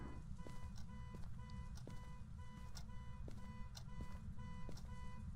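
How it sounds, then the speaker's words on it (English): Within a video game, an electronic alarm beeps in a rapid, regular pulse, holding steady for several seconds over a dense low rumble of background noise. "it's the alarm going off"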